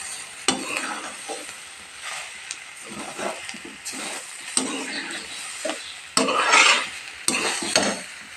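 A spoon scrapes and stirs through a carrot palya sizzling in a pan, with irregular clatters and scraping strokes over a soft frying hiss, louder knocks near the end.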